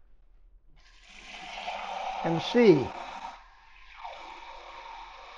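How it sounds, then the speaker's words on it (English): Two cups of water poured into a slow cooker of beef, burger, bacon and hot dog soup, a close liquid splash and trickle that swells and fades, with brief talk over it. "we'll pour in 2 cups of water"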